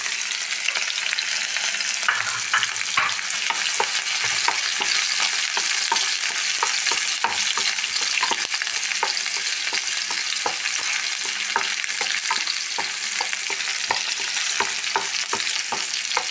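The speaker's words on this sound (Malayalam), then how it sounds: "പിന്നെ ഇഞ്ചി വെളുത്തുള്ളി പച്ചമുളക് മൂന്നെണ്ണം ഇട്ടുണ്ട്" Ginger, garlic, green chillies and shallots frying in a pan for a potato curry, a dense steady sizzle throughout with frequent quick spatula taps and scrapes, close and loud.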